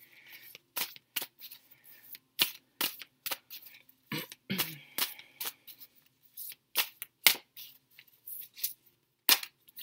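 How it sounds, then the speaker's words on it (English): An Anna K Tarot deck is shuffled in a series of sharp, crisp riffling bursts separated by short silences, close and clear with no talking. "I'm pulling 3 cards from the Anna K Tarot this week."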